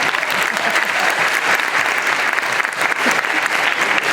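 An audience at a conference at the Tokyo Game Show 2012 gives loud, sustained applause, a dense steady patter of many hands that fills the whole stretch.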